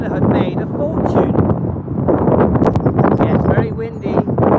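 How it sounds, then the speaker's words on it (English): Strong wind buffeting an outdoor microphone in a continuous, loud, rushing roar that persists throughout with no break. "it's very windy"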